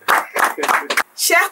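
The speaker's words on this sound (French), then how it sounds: "Applaudissez, s'il vous plaît!" Clapping from a studio audience on a French-language television show comes in a few sharp bursts, mixed with a host's voice speaking over them.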